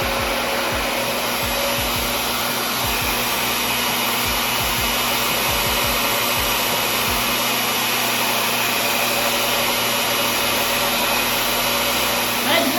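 Hair dryer blowing hot air during a product test for alopecia, a steady loud broadband whoosh running throughout with faint low thumps and brief voices underneath.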